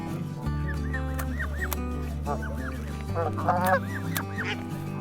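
Geese honk repeatedly nearby, several overlapping calls rising and falling over a low steady hum, with swans and cygnets close by.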